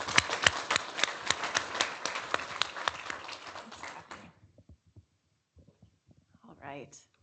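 Conference audience applause, a dense burst of clapping that runs for about four seconds and then drops away into scattered claps and near silence.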